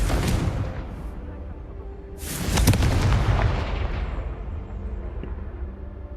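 Confringo fire spell blast in the Hogwarts Legacy video game, a loud booming explosion bursting in at mid-clip over a rumbling, low-heavy background and then slowly dying away.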